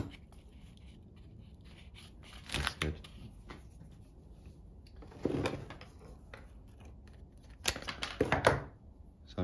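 Small clipping snips while cutting back flat roots on a Fuji cherry bonsai (Kojo-no-mai nursery stock), coming in a few brief close clusters over a quiet background.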